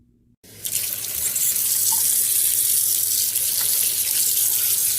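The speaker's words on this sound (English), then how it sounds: "I have them in the sink here and I'm rinsing them off." Chicken feet rinsed in a kitchen sink under a running tap: the water bursts on after a brief silence and keeps up a steady, close, loud rush of splashing flow, with no speech.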